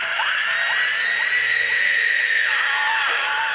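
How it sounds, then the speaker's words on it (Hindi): Villagers shouting and screaming, a loud sustained wash of many voices crying out together with rising and falling wails, steady throughout. "पर तभी पीछे से गांव वालों के चिल्लाने की आवाज आई,"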